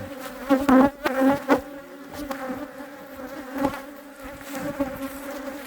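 Honeybees buzz steadily around an open beehive during box splitting, a dense droning hum with louder swells as bees pass close, continuing without speech.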